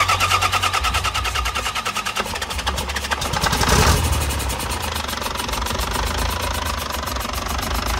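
A Yuchai 260 diesel engine, rated 191 kW, in original unmodified condition, idles steadily up close with a low, even rumble and rhythmic knock, swelling briefly midway before settling back to a smooth idle.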